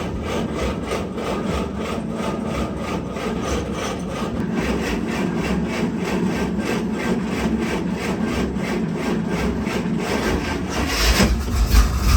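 An old Dodge Power Wagon engine cranks over with the choke fully on and catches, a steady, loud, rhythmic mechanical churn running throughout, swelling near the end.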